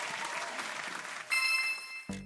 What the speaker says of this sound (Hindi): बहुत खूब, सही जवाब, और इसके लिए जोरदार तालियां।